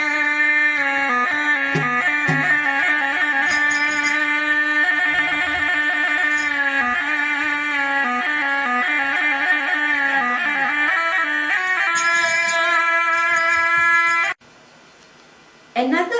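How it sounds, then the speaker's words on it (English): A serunai, the traditional Malaysian wooden double-reed wind instrument, plays a loud, nasal, buzzing melody with held notes and quick ornaments, continuous for about fourteen seconds before stopping, with brief quiet and a short return at the end. "The serunai sounds like this."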